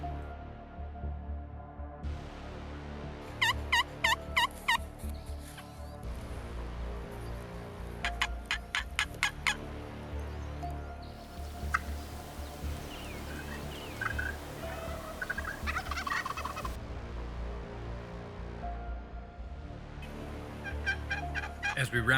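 Wild turkeys gobble on wooded state land, several rapid rattling calls spread across the stretch, some fairly distant, amid steady outdoor background noise.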